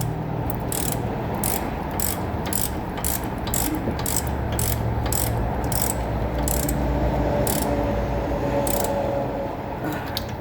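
A ratchet loosens brake caliper bracket bolts held by old threadlocker, giving a quick run of about fifteen sharp clicks close up over a steady background rumble, with no talking.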